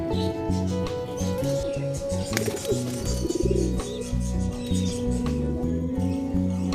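Low, repeated cooing of kept pigeons in Multan, Pakistan pulses rhythmically close by, with occasional rustles and faint chirps among them.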